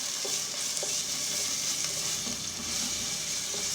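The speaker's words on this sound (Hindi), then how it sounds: "हल्का हल्का भूनना है इसको, ज़्यादा गोल्डन नहीं करना" Steady, close sizzling of garlic paste frying lightly in hot oil, a constant hiss with occasional light crackles and stirring scrapes.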